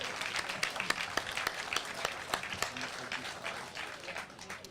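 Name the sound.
audience applause for presenter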